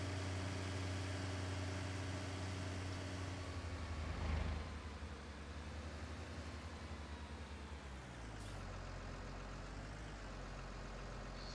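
A John Deere 6X20 tractor engine in Farming Simulator 19 idles with a steady low rumble and hum, shifting slightly in pitch partway through, then settling into a lower drone.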